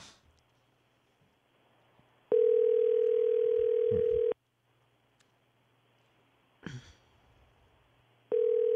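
A telephone ringback tone pulses through a call line to a radio listener, two long steady tones separated by a gap, with a click and faint line noise between them.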